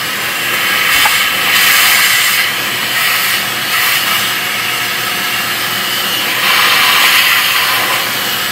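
A loud, steady hiss of soapy cleaner sprayed onto an oily Caterpillar C15 engine comes in several long bursts, pausing briefly between them, close to the microphone.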